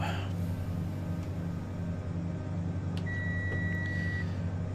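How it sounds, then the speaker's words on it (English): A steady cockpit alarm tone sounds in Microsoft Flight Simulator, rising clear over the constant droning hum of the aircraft engine. "that alarm means Stocko is now in charge of the plane"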